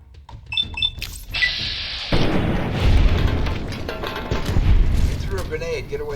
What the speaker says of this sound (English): Grenade, get away from it.